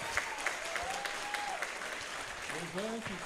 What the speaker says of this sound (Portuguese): palmas para o Sérgio Braga, ele merece